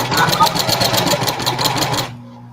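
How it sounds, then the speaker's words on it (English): A sewing machine backstitches over a seam on a reversible bucket hat, running in a fast, loud, rhythmic burst for about two seconds before cutting off. A voice is heard alongside the machine. "I go over a seam, I backstitch"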